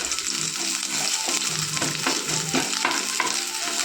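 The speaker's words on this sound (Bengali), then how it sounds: "পেঁয়াজ রসুনটাকে ভেজে নেবো" Onion and garlic frying in oil with dried chilli, a steady close sizzle broken by regular scraping stirs of a spatula against the pan.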